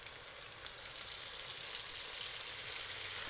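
Chicken pieces and onion frying in a pot for Uyghur chicken plov, a soft, even sizzle with crackling oil, faint and steady throughout.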